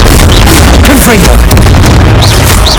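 Blasting spell explosions in the Hogwarts Legacy video game, a dense, loud run of booming bursts and pops over a continuous game soundtrack, with a voice shouting spell names through the mix.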